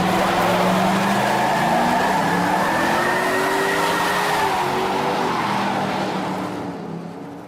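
A 2005 Ford Mustang V8 revs hard and spins its tires, engine pitch climbing and wavering with squealing rubber, loud and close before fading away at the end.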